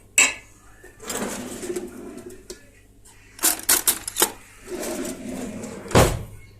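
A spoon spreads biscuit cake pudding in a pot, producing scattered metallic scrapes, taps and clinks, including a quick cluster of sharp knocks and a louder clank near the end, with softer scraping in between.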